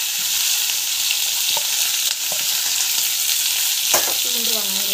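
Garlic and onion sautéing in hot oil, a steady loud sizzle and crackle with occasional clinks of a spoon stirring the pan.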